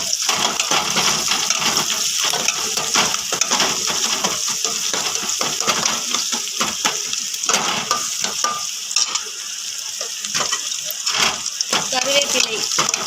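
Ginger, garlic and curry leaves sizzle in a pan for crab soup, with steady close frying and repeated scraping and stirring strokes throughout.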